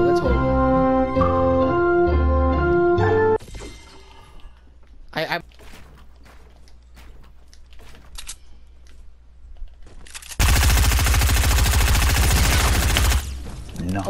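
Video game gunfire: after a stretch of music and a few scattered sharp shots, a loud, dense burst of rapid automatic fire lasts about three seconds, then stops abruptly. Faint voices are present.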